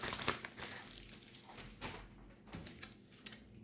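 Soft plastic crinkling and rustling in short irregular bursts, close and fairly quiet, like a padded mailer bag being handled.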